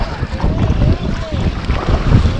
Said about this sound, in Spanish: El viento está más fuerte.